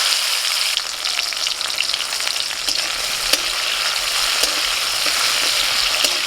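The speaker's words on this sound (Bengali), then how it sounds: "ফোড়নটা হয়ে গেছে, টমেটোটা দিচ্ছি।" Tomato dropped into hot oil already frying bay leaf, dried chilli, whole cumin and whole garam masala, giving a loud, dense, continuous sizzle with scattered crackles and pops throughout.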